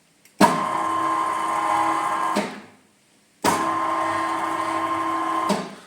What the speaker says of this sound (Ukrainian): станок на цих двох колінах ходить туди-сюди, тут два конусних подшипника